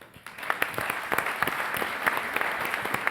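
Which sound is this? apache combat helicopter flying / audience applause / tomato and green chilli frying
audience applause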